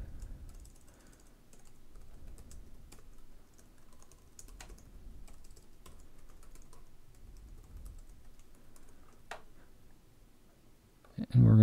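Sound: typing on a computer keyboard

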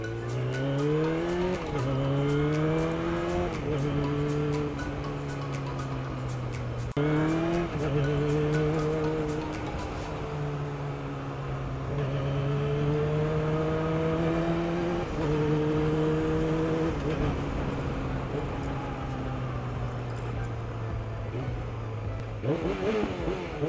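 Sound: Yamaha R6 motorcycle engine on test ride

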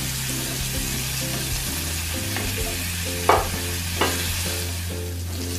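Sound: stir-frying ginger, star anise and cinnamon

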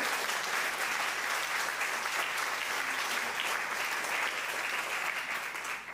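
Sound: audience applause

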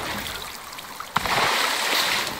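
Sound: player jumping into water in video game Icarus

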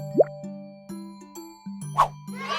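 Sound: jars of jam dropped into a shopping cart

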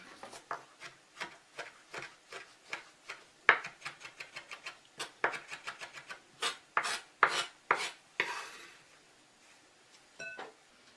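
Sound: finely chopping rosemary leaves

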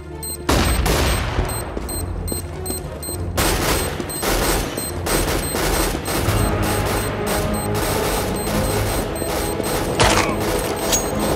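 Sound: flashbang and gunfire in video game Counter-Strike: Global Offensive

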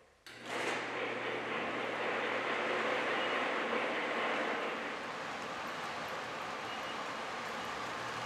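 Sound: model train running on a game room display layout

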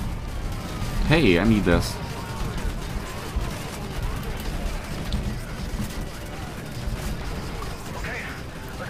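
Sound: explosions and gunfire in Call of Duty Modern Warfare 3 video game

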